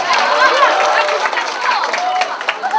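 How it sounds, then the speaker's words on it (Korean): Audience applause and cheering fill the hall at a youth festival, a dense steady wash of clapping mixed with crowd chatter and voices throughout. "우리 김현진 학생과 우리 김세원 학생에게도 다시 한번 큰 박수 부탁드립니다"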